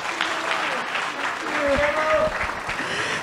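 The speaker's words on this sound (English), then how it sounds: "Let's give another round of applause to Mr. Oliver as well as Stella" Audience applause fills an auditorium at a community event, steady clapping from many hands across the whole stretch, with a voice talking over it near the middle.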